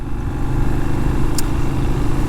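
A Benelli 752S motorcycle rides through town with a steady, close engine drone and a constant rumble, plus a brief high click partway through.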